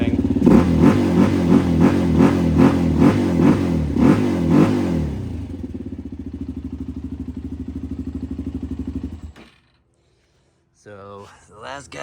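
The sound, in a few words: Suzuki LTZ 400 ATV engine revving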